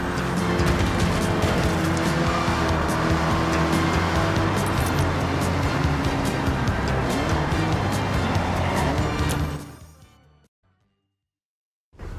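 Cars in Forza Horizon 6 drive through Tokyo on a city day trip, with loud, continuous engine roar and tire squeal. The noise cuts off abruptly near the end as they stop, leaving near silence.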